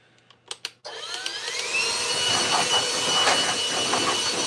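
A few sharp clicks, then a Seville blower roars to life and keeps up a loud, steady whoosh close by as it blows dust off workshop tools.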